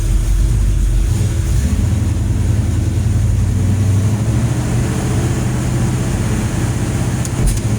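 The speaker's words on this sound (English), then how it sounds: "Maybe you can kind of hear how good it shifts." A 1970 Dodge Dart with a 340 V8 runs in a steady low rumble, the engine drone holding loud and even with a slight shift in pitch midway as it moves through the gears.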